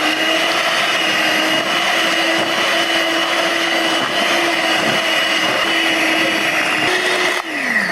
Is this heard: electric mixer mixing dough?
yes